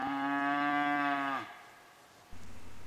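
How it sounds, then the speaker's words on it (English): Cattle on an Arizona elk hunting range give one long, loud drawn-out moo for over a second, then fall quiet before a low rumble resumes, with no talking. "these moo cows just had to answer that bull when he bugled"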